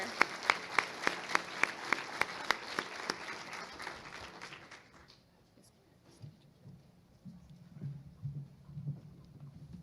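Clapping from a high school FFA banquet audience, distinct claps for about five seconds, then stopping abruptly and leaving quiet room noise with faint murmuring.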